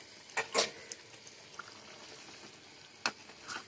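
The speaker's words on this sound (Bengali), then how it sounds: "এগুলোকে আমি এখন এটাকে ঢেলে দিচ্ছি, ঢেলে দিয়ে কিন্তু নাড়াচাড়া করে ফেলতে হবে" A thin mixture is poured into a simmering fish egg curry and stirred. A soft liquid bubbling runs underneath, broken by a few close, sharp scrapes and splashes from the spoon.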